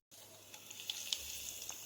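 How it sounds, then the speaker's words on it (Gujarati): Cumin seeds and asafoetida hit hot oil in a pan for a Gujarati dal palak, giving a faint, steady sizzle with small crackling pops. "તેલ આપણું ગરમ થઈ ગયું છે તેમાં જીરું નાખીશું હિંગ નાખી દઈશું"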